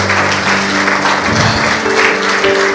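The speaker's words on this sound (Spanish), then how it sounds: "¿Por qué no dar un aplauso al Señor?" Congregation clapping in a church service, steady broadband applause mixed with sustained organ or keyboard chords underneath, loud and continuous.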